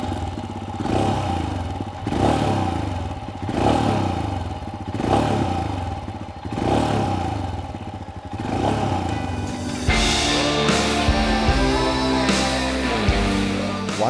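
A 2021 Royal Enfield Himalayan motorcycle's exhaust thumps out a few rhythmic revs rising and falling every second or so, then settles into a steady, loud single-cylinder beat, close and without talk.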